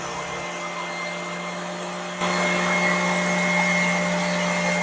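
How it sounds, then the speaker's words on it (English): A power sander runs continuously on old enamel paint on furniture, a steady high-pitched whine and hum that grows slightly louder and rougher partway through. "I was looking at the sander and it was going on an angle"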